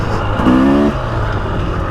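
A 2024 Husqvarna TX300 dirt bike engine runs close and loud, with a steady drone that briefly swells in a short rev before settling back.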